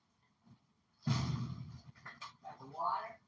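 A dog pants close by in quick rhythmic bursts of breathy huffing that start suddenly after a near-silent second and continue in uneven waves.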